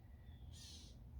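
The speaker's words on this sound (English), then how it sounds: "And you can hear a catbird right now," A catbird calls once outdoors on a quiet morning, a short harsh mewing note that is faint against a low steady background with crickets.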